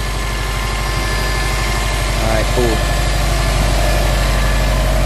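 A Subaru STI engine idles loudly and steadily while warming up at a dyno, with a deep, even rumble, while a person speaks briefly over it.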